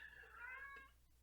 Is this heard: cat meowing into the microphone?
yes